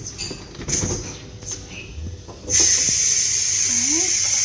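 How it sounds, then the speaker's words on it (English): A pressure cooker holding a cooked beef roast vents its steam: a sudden loud, steady hiss bursts out partway through and continues unbroken after a few quieter knocks and handling sounds. "I'm going to go ahead and release the steam and take it out and see what it looks like."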